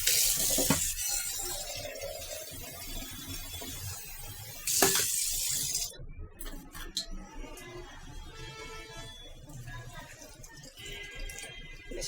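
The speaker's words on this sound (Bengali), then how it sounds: "এখন একটু সামান্য পানি দিয়ে দিব।" Water poured into boiled, mashed lentil dal in a Bangladeshi home kitchen, a soft splashing and trickling pour in bursts under quiet background clatter, fairly faint and close.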